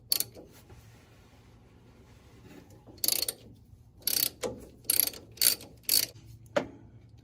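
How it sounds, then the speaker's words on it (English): A 12-point socket ratchets a steering coupler bolt loose on a 1977 Ford 4x4 truck, a few close, sharp bursts of clicking separated by short pauses, with no talk. "You're gonna need a 12-point socket for this special bolt here."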